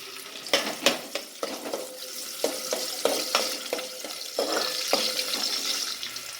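Chopped onion dropped into hot ghee and oil, a loud close sizzle with sharp crackling bursts and spattering pops, irregular at first then settling into a steadier hiss.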